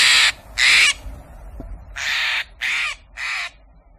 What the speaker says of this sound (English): Do you recognize the loud, demanding call of the Steller's jay?